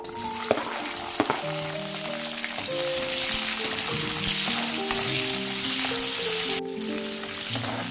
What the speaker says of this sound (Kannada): ಈರುಳ್ಳಿನ ಗೋಲ್ಡನ್ ಕಲರ್ ಬರೋ ತನಕ ಫ್ರೈ ಮಾಡ್ಕೋಬೇಕು